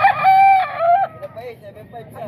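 A rooster crows loudly and close by at a poultry market stall in Calumpit, one long harmonic call followed by softer trailing clucks and crowing.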